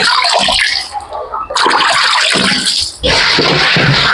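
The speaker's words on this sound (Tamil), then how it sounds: "லைட்டாக அப்படியே தண்ணி தொழிச்சிக்கலாம்" Water splashes and sloshes loudly while sliced bitter gourd is tossed and mixed with masala in a container, with a few brief pauses in the rustling.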